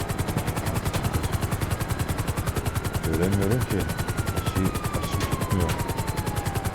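Helicopters strafing with rapid machine-gun fire in the online game GTA 5, a steady rotor drone under dense rhythmic bursts of shots, with voices talking over it.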